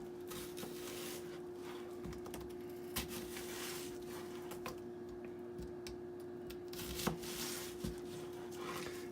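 Half an onion sliced with a knife on a cutting board: a run of light, crisp ticking cuts at an uneven pace, close by, over a low steady hum.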